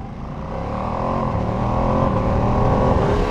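Ducati Panigale V2 or Multistrada V2 twin-cylinder engine revving up with quick-shifter gear changes, the RPM climbing steadily in one loud, continuous pull close by.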